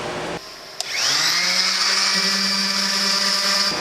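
A palm random orbital sander sanding wood whirs up to a steady, high-pitched drone and holds it, with a brief click at the start as it switches on.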